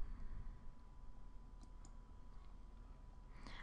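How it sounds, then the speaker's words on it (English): A few faint, sparse computer mouse clicks while using Photoshop, quiet and isolated against a low steady background hum, with a small cluster near the end. "left click on the type tool"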